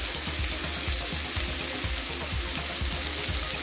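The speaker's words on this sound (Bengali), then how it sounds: "ঢাকনাটা সরিয়ে সবজিটা নেড়ে দিচ্ছি" Mixed vegetable bhaji being stirred as it fries in a pan, giving a steady, close sizzle with soft scraping and rustling throughout and no talking.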